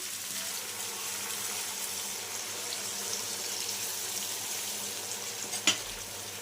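Mutton chukka fries in a pan with a steady, even hiss of sizzling and one sharp scrape of stirring near the end, no voices.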